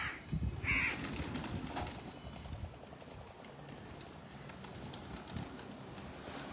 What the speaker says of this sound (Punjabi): ਇਹ ਸਾਡੇ ਫੈਸਲਾਬਾਦੀ ਕਬੂਤਰ ਨੇ